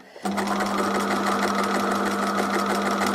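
A sewing machine runs steadily, stitching over a bumpy, pebbly quilt section, starting after a brief quiet moment and then holding a continuous close, loud mechanical drone with rapid needle chatter.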